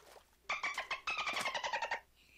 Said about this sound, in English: Hear him singing there?